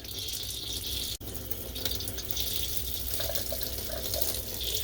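Water gushing steadily from a faucet in a 2012 fifth wheel camper sink during antifreeze winterizing, a close, continuous splashing rush with one brief break.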